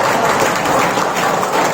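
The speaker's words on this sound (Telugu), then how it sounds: "కొట్టండి చప్పట్లు" A room of teachers at a school heads and teachers training session applauding together, a dense steady wash of clapping that fills the whole short stretch at even loudness with no voices on top.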